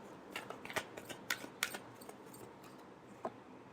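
Tarot cards being shuffled in a quiet room during a reading, giving a series of faint, crisp riffling snaps and flicks that come in irregular bursts, with no voices over them.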